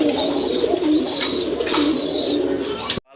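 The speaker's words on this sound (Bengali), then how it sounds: "আর এটা কিন্তু অনেক ভালো ডাকে, যারা আসলে ডাকওয়ালা কবুতর খুঁজতেছেন তাদের জন্য এই পেয়ারটা অনেক ভালো হবে" A domestic pigeon from a pair offered for sale at a pigeon market coos repeatedly and close by in soft rolling calls over a steady murmur of background noise.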